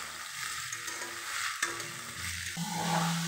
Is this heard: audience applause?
no